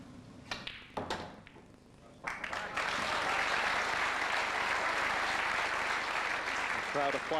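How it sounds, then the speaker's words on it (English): Audience applause breaks out at the 1998 Embassy World Pool Championship final between Carl Morris and Keith Brewer, following a few sharp ball clicks; the clapping builds to a dense, sustained roar from a crowd filling the hall. "The crowd applauds that."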